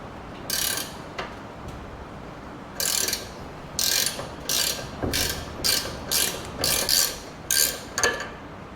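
Ratchet wrench working the tie rod nut on a 1976 Ford van, producing about eight short, crisp bursts of clicking separated by brief pauses, close and clear over a quiet background.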